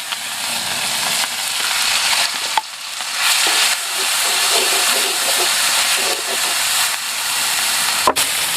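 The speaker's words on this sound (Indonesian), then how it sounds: "Nah ini bumbunya kita goreng langsung." Spice paste for Lombok-style Taliwang grilled chicken frying in hot cooking oil, a steady close sizzle and hiss that carries through the whole stretch with a brief clatter near the end and no talk.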